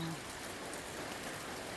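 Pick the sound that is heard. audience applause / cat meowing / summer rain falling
summer rain falling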